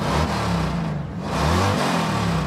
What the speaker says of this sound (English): Rev it up and let her roll.